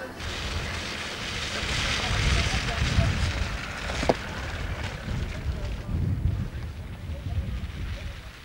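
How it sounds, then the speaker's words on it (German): Strong, cold wind gusts roar steadily across the microphone at an outdoor cherry blossom festival in Berlin, a loud rumbling buffet with surges and brief thumps throughout. "ein kräftiger und kalter Wind, bei dem man besser die Jacken bis oben hin zuknöpft"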